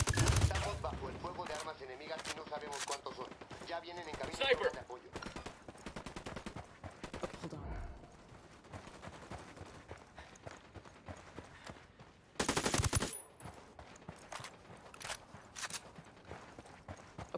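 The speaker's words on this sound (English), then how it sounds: "Estamos bajo el fuego de armas enemigas y no sabemos cuántos son" Enemy gunfire in Ghost Recon Wildlands, scattered shots and rapid bursts at varying distances, with one loud close burst, under intermittent voices.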